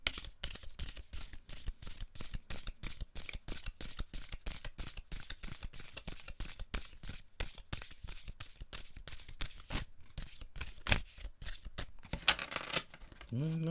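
A deck of tarot cards is shuffled again and again close up, a rapid run of crisp riffling bursts in a steady rhythm, with a brief voice near the end.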